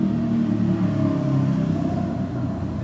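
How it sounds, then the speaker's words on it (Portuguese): A motorcycle rides past outside, going back and forth, a loud, low engine rumble that holds steady and then eases slightly toward the end. "esse doido de moto tá pra lá e pra cá hoje"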